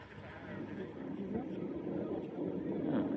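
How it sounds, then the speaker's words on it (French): Airplanes pass over Paris as a low, distant rumble that swells gradually beneath nearby conversation. "on entend les avions"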